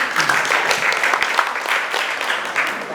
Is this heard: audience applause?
yes